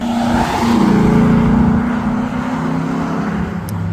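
A loud Porsche GT4 RS passes close by at a car meet, its engine note swelling into a strong roar and then easing off as it moves away.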